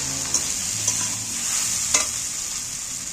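A utensil stirs pointed gourd and potato frying in a pan, steady sizzle throughout with a few scraping clinks close by.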